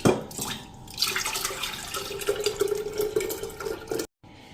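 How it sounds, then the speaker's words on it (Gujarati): Buttermilk separated while making ghee from cream pours into a jug in a steady close splashing trickle that runs for about four seconds, then cuts off abruptly. "હું અત્યારે આ એક જગમાં છાશ માટેનો જગ છે એમાં જ છાશ કાઢી લઉં છું"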